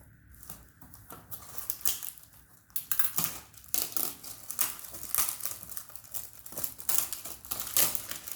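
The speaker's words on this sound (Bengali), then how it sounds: "আমরা চকলেট গুড়টা এবার আনপ্যাক করে দেখি।" Packaging of chocolate jaggery (gur) being unpacked by hand, continuous loud crinkling and crumpling of wrapper material with rustling bursts and rough tearing texture, close up and without pause.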